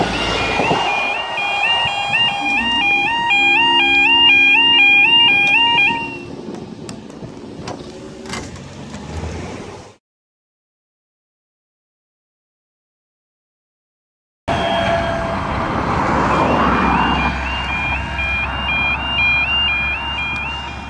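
Level crossing alarm at Honington, Lincolnshire, sounding a loud warbling two-tone wail that rises and falls rhythmically, close by, then breaks off and gives way to rushing noise that fits a passing train.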